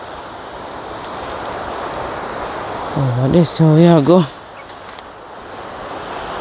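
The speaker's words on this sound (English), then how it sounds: "I hear the river rush down." A river rushes below a hillside water-source pipe after Hurricane Melissa, making a broad, continuous roar that fills the whole stretch while someone briefly talks over it midway.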